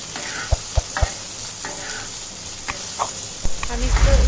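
Okra fries in oil in a pan with a steady, close sizzle, punctuated early by a few sharp spoon taps and ending in a louder rustle as the pieces are pushed around.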